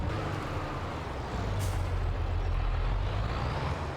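A tractor engine in the video game Farming Simulator 22, in winter on the Elm Creek map: a loud, continuous low rumble with an airy hiss layered over it and a brief higher whine partway through, with no talking.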